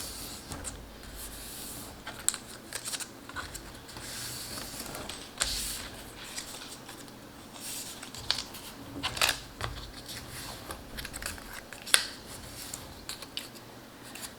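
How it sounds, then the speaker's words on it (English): Paper craft pieces being folded along score lines, a quiet run of soft creases, rustles and small crisp snaps scattered irregularly over a low background, close by. "I'm going to go ahead and fold on all these score lines."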